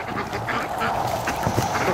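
A flock of ducks on a lake quack in a dense, continuous chorus, many birds calling at once close by as they hurry home, with no talk over them.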